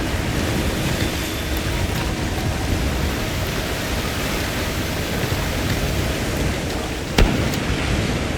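Heavy rain pours down in a Monster Hunter Wilds downpour, a dense, steady hiss that fills the scene, with one brief louder crackle near the end and no voices.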